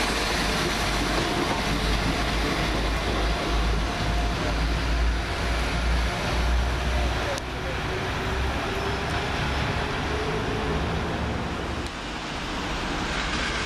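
London Midland diesel passenger train, unit 172340, pulling out of Cradley Heath station, a loud sustained engine drone with low rumble and rolling wheel noise building and holding throughout.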